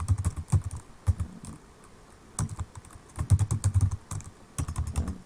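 Keys on a computer keyboard clatter in quick irregular bursts of typing with short pauses between them, close and fairly quiet with no talking.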